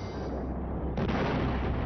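Soviet ML-20 152 mm gun-howitzer firing, a heavy booming report followed by rolling rumble, with a second loud blast surge about a second in, close and dense with no voices.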